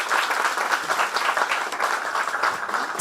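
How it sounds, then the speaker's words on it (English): Audience applause at a book meet-and-greet event, a dense continuous round of clapping from a crowd, even and sustained at moderate loudness without pauses. "Can we have a special round of applause for her?"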